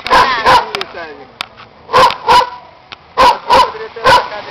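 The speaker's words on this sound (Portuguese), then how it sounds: "Olha o cachorro." A dog barks repeatedly in loud, close bursts, roughly two pairs of barks followed by a run of three, with short gaps between them.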